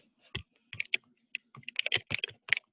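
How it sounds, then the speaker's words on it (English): Typing on a computer keyboard during an online mortgage and credit-readiness session, heard as irregular bursts of close, crisp key clicks with short pauses between clusters, no talking. "I'm typing it right now."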